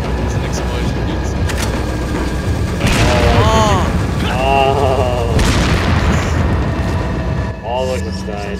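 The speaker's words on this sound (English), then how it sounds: "It's an explosion, dude." An explosion in the video game Resident Evil 4 gives loud booming bursts over a steady game rumble, and players talk excitedly over it.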